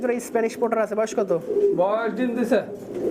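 Pigeons at a fancy pigeon market coo in rolling, repeated throaty calls, close and fairly loud, with a few overlapping birds and possible murmur of people nearby.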